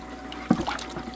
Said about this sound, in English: That's hot water.